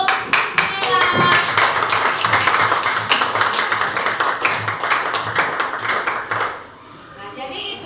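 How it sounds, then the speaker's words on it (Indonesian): Schoolchildren in a classroom clap for a classmate named Nela, individual claps audible as quick sharp hits with kids' voices mixed in, fading out near the end into quieter chatter. "tepuk tangan untuk Nela"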